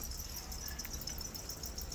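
Breeding crickets kept in a plastic bucket chirp in a continuous high-pitched trill, a steady faint buzz with no voices over it.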